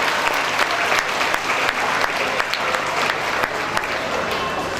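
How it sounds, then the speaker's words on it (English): An audience at a school annual concert applauds steadily, a dense and even wash of many hands clapping that holds for several seconds without pause. "Please give them a huge round of applause."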